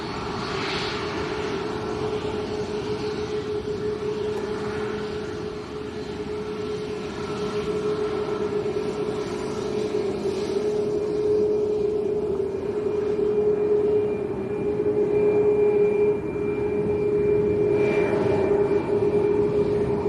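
An airliner bound for Madrid takes off at Lanzarote Arrecife airport, heard as a continuous distant jet roar with a steady high whine that slowly swells over twenty seconds, with no talk.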